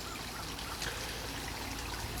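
Water trickling from a hose out over small backyard falls after rain, a faint, steady wash of splashing and dribbling that stays low and even throughout.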